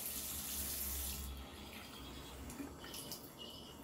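Water runs from an upstairs household tap during a water pressure test, a steady hiss of flowing water that dips slightly after the first second and continues unbroken.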